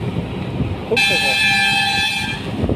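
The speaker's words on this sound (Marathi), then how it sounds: "हॉर्नचा आवाज ऐका तुम्हाला खरंच कळेल." A vehicle horn gives one loud, sustained blast of over a second, standing out sharply against a background of road noise.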